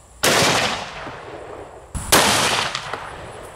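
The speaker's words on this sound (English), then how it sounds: "It turns out I already had the 4570 cylinder in this revolver, so that's what we're gonna do next." Two sharp, very loud revolver shots, about two seconds apart, from 45-70 Underwood 430-grain hard-cast +P rounds, each with a ringing decay.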